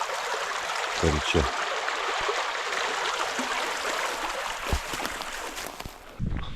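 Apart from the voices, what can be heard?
small stream flowing between lakes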